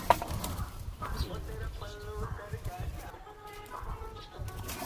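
Pigeons in a loft of fancy breeds, Chini Kaldum, Laldum and Malboy, cooing softly and shuffling at close range, with intermittent talk and background clatter throughout.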